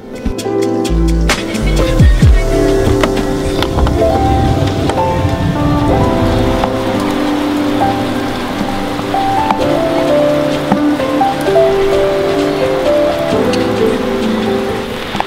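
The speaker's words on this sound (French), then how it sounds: "avec la pluie et tout ça, ça faisait un vacarme dans le van" Rain hammering on a parked camper van at night near Milford Sound, New Zealand, in winter: a loud, continuous drumming patter with scattered sharper drips and knocks throughout.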